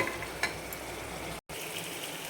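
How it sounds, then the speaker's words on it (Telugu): Mutton curry sizzles and fries steadily in a pan while being stirred, with a constant close crackle, light scraping and one brief break. "తిప్పితేనే ఉండాలండి ఎంత తిప్పితే అంత మంచిగా వస్తుందండి కూర"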